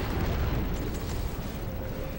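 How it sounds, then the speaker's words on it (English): Torpedoes exploding in Gears of War 3: dense, rolling booms that blend into a loud, continuous roar, fading only slightly toward the end. "Oh, torpedoes! They were already firing."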